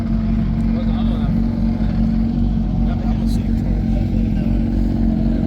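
Turbocharged muscle car engine, a normal motor with a turbo bolted on, giving a loud, steady, low drone throughout, with people talking over it.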